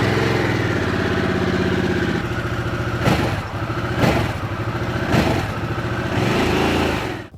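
A new Harley-Davidson Sportster engine idles close by with a steady, loud, lumpy rumble and a few brief blips of throttle, with no one talking.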